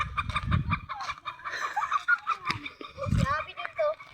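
Chickens cluck and squawk in a rural farmyard, with scattered calls close by, mixed with people talking.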